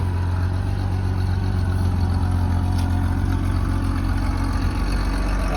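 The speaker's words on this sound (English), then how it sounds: "I always like this 6-cylinder sound." A 1965 Ford Econoline van's six-cylinder engine idles steadily and loudly nearby, a low rumbling drone with a raspy chuff from a leaking exhaust and blown muffler.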